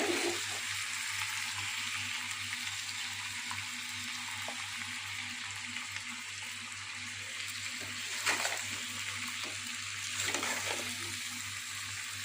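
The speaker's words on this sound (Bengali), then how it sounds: "এইভাবে চিকেনটা কষালে খুব ভালো হয়" Chicken pieces for Bengali chicken kosha fry in a pan over medium heat with a low, steady sizzle over a constant hum, with a couple of louder stirring scrapes toward the end and no speech.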